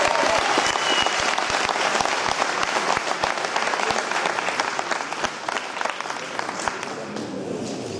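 A crowd at a bodybuilding championship claps enthusiastically, a dense burst of applause that starts loud and gradually thins out toward the end.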